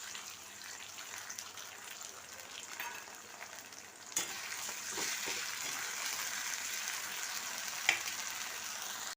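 A spoonful of ginger-garlic paste frying with onion and tomato in a hot pan, a continuous sizzle that swells louder midway, with occasional stirring scrapes and a utensil tap, no speech.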